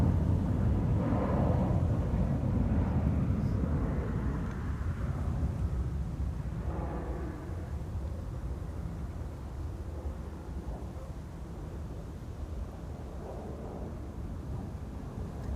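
Transavia airliner rolling for takeoff at Amsterdam Schiphol Airport, a deep, rumbling jet roar heard from a distance outdoors, loudest early on and gradually easing, with wind buffeting the microphone.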